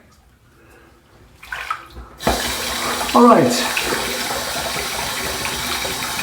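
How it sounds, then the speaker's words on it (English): Tap water gushes into a sink for a rinse after a head shave, starting with a brief squeak of the handle, then a loud, steady, close rushing stream; a voice speaks briefly just before. "I'm going to go ahead and do my two final rinses, one warm, one cold."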